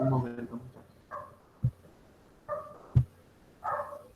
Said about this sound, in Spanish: Pero mis perros están un poco alterados.